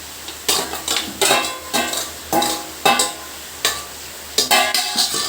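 Chicken pieces go into a pan with curry leaves and are stirred, bringing repeated clanks and scrapes of a utensil against the metal pan, close and fairly loud.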